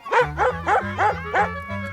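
A small dog yaps about six times in a quick, even rhythm, close and loud, each yap short and high-pitched, with nothing else heard.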